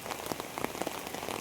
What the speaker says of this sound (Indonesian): Sekali lagi ini hujan belum berhenti ya di pagi hari di Kali Gendong ini